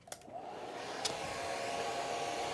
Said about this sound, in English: I'm going to get the blow dryer out